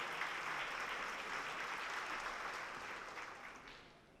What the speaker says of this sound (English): Give yourselves a big round of applause for being here for this special occasion.